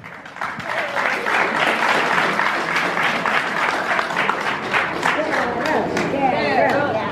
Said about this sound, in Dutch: Applaus voor Carol.